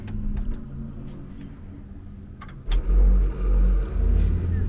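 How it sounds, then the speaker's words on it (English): Air compressors kick on partway through, their low, loud, steady drone abruptly swelling over a quieter background. "Don't mind that noise, that's the compressors kicking on."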